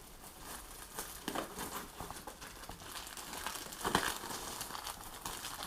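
Plastic packaging crinkling and rustling as rollator adjustment levers are unwrapped, a run of quiet close crackles and crumples with a sharper burst near the end.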